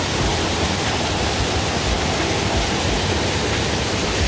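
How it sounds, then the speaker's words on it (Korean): Waterfall in a misty moss valley gorge, a loud, unbroken broadband rush of falling water roaring steadily and close by with no other sounds or voices. "저 폭포도 있고요"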